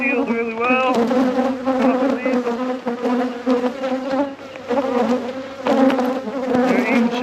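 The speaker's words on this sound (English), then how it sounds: "This is the first time I'm checking this hive since winter." Honey bees buzz loudly and continuously inside a hive opened for its first inspection after winter, a dense close-up drone with wavering pitch and no talk.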